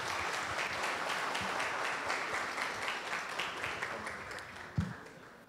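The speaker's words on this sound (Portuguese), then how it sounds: "Uma salva de palmas, pessoal." An audience claps steadily for a guest speaker being welcomed to the podium at a formal civic presentation, a sustained even wash of applause that slowly tapers off toward the end.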